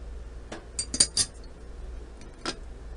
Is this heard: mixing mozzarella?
yes